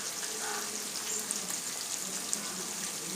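Chicken frying in ghee gives a faint, steady hissing sizzle throughout, with a couple of tiny pops and no talking.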